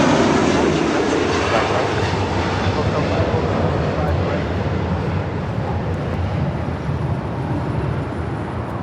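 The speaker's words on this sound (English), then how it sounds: "we got to experience the Emirates A380 taking off right in front of our eyes" Emirates Airbus A380 taking off at LAX, its jet engines giving a loud, steady broadband roar that fills the whole stretch and eases off only slightly toward the end.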